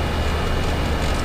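A Boeing 737-300 airliner climbs just after takeoff from Lagos, heard from inside as a loud, steady broadband roar of engine and airflow with no break.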